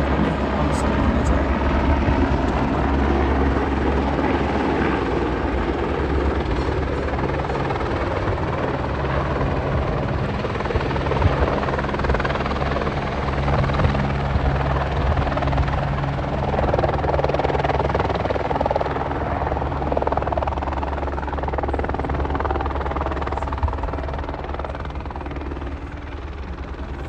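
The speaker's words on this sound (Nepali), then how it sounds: "फेरि अर्को हेलिकप्टर आइसकेको छ।" A helicopter flies near the Gosaikunda trek at high mountain altitude, its rotor drone steady, loud and unbroken throughout, with occasional faint voices underneath.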